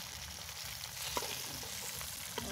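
Fish frying in hot oil in a home kitchen, a close, continuous crackling sizzle with a couple of sharper pops and faint stirring or utensil taps, no talking.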